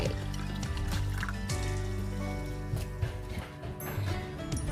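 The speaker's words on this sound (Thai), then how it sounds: "อันนี้ก็จะเป็นน้ำน้ำธรรมดาแต่ว่ามีก๊าซนะคะ ก็ใส่เข้าไป" Carbonated soda water pours into a glass with a gurgling, splashing stream that runs for several seconds under steady tonal background music.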